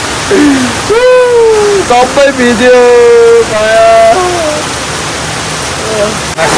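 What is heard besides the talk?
heavy rain pouring down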